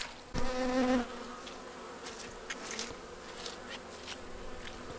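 Honeybees in a small spring hive in Manitoba buzz steadily. A loud close buzz from one bee passes for about a second, then a softer, continuous hum from the colony carries on with faint scattered clicks.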